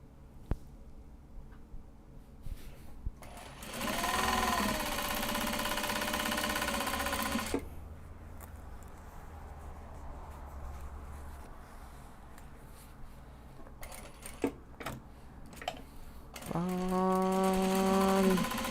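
Sewing machine running top stitching on a small welt pocket, two steady bursts of close, loud mechanical whirring separated by a quiet pause, with faint clicks in between.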